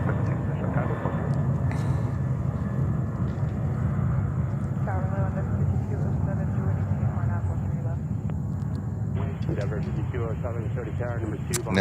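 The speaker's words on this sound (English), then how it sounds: "The next takeoff is ANA 777 to Tokyo Haneda." An ANA Boeing 777 takes off from JFK airport in New York, a steady broad jet engine roar throughout, with people talking over it and faint radio chatter.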